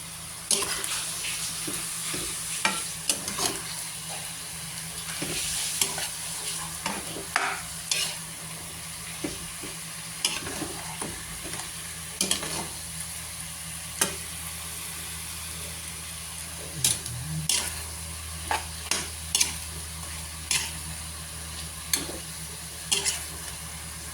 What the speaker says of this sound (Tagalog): Pakuluan ng mga 5 minutes